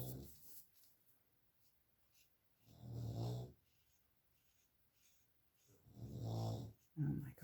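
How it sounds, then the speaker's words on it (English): Dogs nearby make snorting, snore-like grunts in two or three loud bursts, with quieter rustling in between. "Oh my gosh, those dogs."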